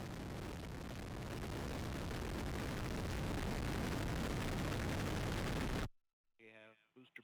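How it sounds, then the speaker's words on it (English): An Atlas V rocket's RD-180 engine roars at liftoff for the NROL-55 launch. A loud, dense, continuous rumble fills the first six seconds and then cuts off abruptly, followed by a voice speaking. "We have RD-180 ignition, and we have liftoff of the United Launch Alliance Atlas V rocket"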